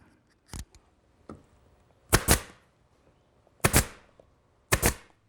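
Sharp scissor or shear cuts trimming leather upholstery on a cigar chair, four crisp snips spaced over a few seconds, close and loud in a quiet room.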